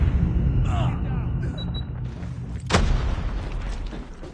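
A grenade blast and gunfire in a first-person shooter video game: a broadband boom partway through over continuous rumbling battle ambience, with a few scattered mechanical clicks and shots around it.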